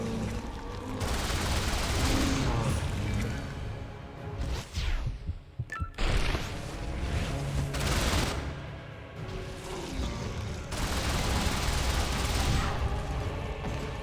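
Rapid gunfire from silver Uzis and a golden shotgun in Tomb Raider Anniversary, dense loud bursts filling most of the stretch with a brief gap midway, no talk.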